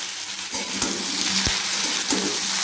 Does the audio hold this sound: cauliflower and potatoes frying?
yes